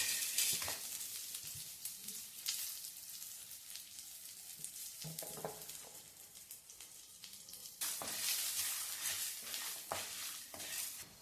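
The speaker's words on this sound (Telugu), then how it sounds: "ఆయిల్ బాగా వేడెక్కింది కాబట్టి ఇందులోకి మనం ఇదంతా వేసి లైట్గా ఫ్రై చేసుకున్నాం." Ingredients for bisi bele bath frying lightly in hot oil make a steady sizzle. A spoon stirs and scrapes through the pan now and then, and the sizzle swells louder in the last few seconds. No one talks.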